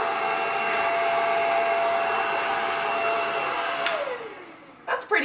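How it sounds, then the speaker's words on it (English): A Simplicity S67 cordless vacuum cleaner runs with a steady, close, high whine, then powers down and winds to a stop, followed by a couple of brief handling clicks. "once I'm done vacuuming it all up and doing everything I need to do"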